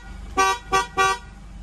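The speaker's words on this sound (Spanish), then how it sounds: "Vamos a tocar la bocina, el momento de la verdad." A Mercedes CLA 250 sounds its horn three times in quick succession, short bright honks close by with brief gaps between, and a low idle hum underneath.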